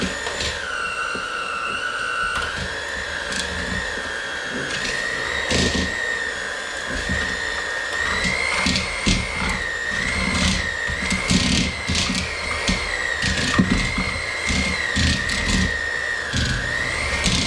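An electric mixer whips butter for oatmeal cookies, giving a steady, loud motor whine that wavers in pitch, with occasional knocks and scrapes against the bowl.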